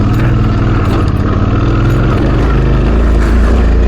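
A Suzuki V-Strom 650 (DL650) motorcycle is ridden at speed, its engine a loud, steady drone thick with rushing wind noise throughout.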